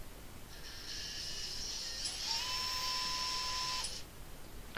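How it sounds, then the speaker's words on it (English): A small quadcopter drone motor spins up during a motor test, giving a faint high-pitched whine that rises and holds for a couple of seconds before cutting out, over quiet background hiss. "So let's try motor 4 now."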